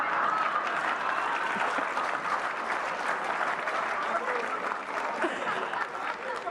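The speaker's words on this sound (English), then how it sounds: "you guys are clapping on 2 and 4" A church congregation at a Sunday worship service clapping steadily on beats 2 and 4, a full, even wash of many hands with light crowd murmur.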